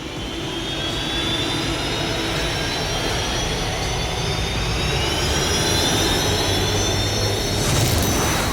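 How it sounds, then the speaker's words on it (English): Unlimited hydroplane racing boats at the Columbia Cup in Tri-Cities, Washington, their jet-turbine engines spooling up with a steady, loud, rising whine over a broad roar, continuous and with no talk. "The engines are spooling up for the final"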